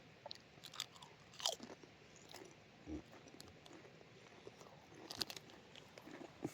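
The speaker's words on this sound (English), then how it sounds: "I do like a pack of crisps as well." A pack of crisps being eaten at a wild forest camp by a river in Scotland: faint, close crunchy chewing with soft crackles and small bites over a quiet outdoor background.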